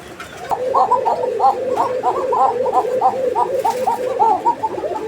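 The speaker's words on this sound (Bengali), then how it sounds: "এই যে ডাকটা দেখছেন না এটা হচ্ছে নটটা প্রচুর পরিমাণে ডাকাডাকি করে" A male Kokka pigeon calls insistently up close, a rapid string of throaty, bubbling coos repeated over and over against a murmur of background noise.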